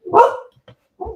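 A dog barks once loudly at close range, followed by a faint short yip and another quick bark, with silence between.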